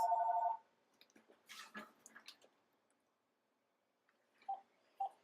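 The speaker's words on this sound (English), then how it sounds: "the phone was ringing" A phone rings with a short electronic tone at the start. Quiet rustling follows, then two brief, faint beeps near the end.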